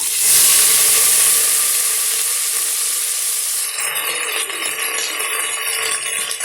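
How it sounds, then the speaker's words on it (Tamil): Brinjal gravy ingredients sautéing in a hot pan over tempered mustard and cumin, a loud hissing sizzle that peaks early then settles into softer steady frying with light stirring scrapes. "ஒரு 2 நிமிஷம் நல்லா வதக்கி விட்டுக்கலாங்க"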